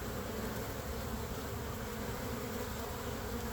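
Honey bees from an overwintered survivor colony hum densely at the hive entrance, a continuous close buzzing swarm bringing in yellow pollen, with no voices.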